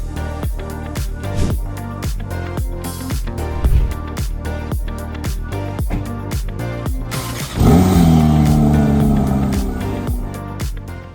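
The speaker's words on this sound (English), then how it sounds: "I have the 2023 Porsche GT3." A 2023 Porsche GT3 engine sits at a loud, burbling idle with rhythmic pulses, then blips into a sharp, rising rev near the end that holds as a strong, close snarl.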